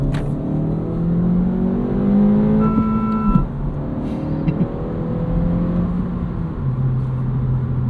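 A 2025 Honda Civic Si engine blips and rises in pitch as auto rev matching catches each downshift, then settles back into a steady hum from inside the cabin, with no talking.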